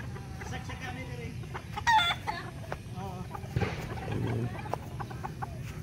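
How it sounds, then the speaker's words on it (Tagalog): Chickens cluck and call in a farmyard, with a brief louder squawk partway through and steady low rumbling background noise. "Mga alaga nilang manok."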